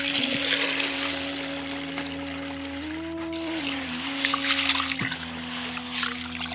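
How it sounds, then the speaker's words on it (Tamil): Water poured into a vessel over lablab beans set to soak, a steady trickling and splashing pour that runs through the whole stretch with a faint background hum, no talk. "அவரைக்கொட்டைய தண்ணி ஊத்தி ஊற வச்சாச்சு."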